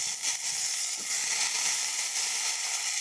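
Papaya and pointed gourd frying in hot oil in a pan, a steady close sizzle that holds at an even level throughout with no talking.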